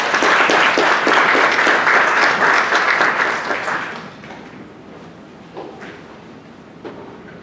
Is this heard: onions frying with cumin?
no